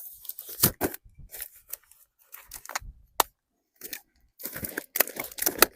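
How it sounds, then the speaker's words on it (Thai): Garlic and chili are pounded in a mortar for a spicy dipping sauce to go with fish. The close crunching and knocking impacts come in irregular bursts with short pauses between them. "เราจะมาตำน้ำจิ้มนะคะ น้ำจิ้มรสเด็ด ใส่กระเทียม"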